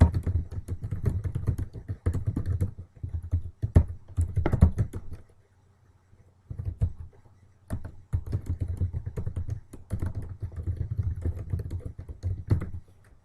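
Rapid typing on a computer keyboard, close and steady, with keystroke bursts broken by a couple of brief pauses.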